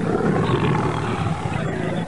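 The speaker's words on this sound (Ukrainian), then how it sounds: "Він страшний маленький тигр." A cartoon tiger cub gives one sustained, loud roar lasting about two seconds, heard alone with no talking.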